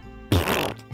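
A fart noise sound effect: a single short, loud, buzzy blurt lasting about half a second, close and alone, ending with a faint trailing puff.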